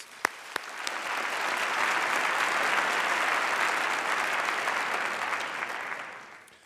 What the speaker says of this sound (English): I want everyone to give them another round of applause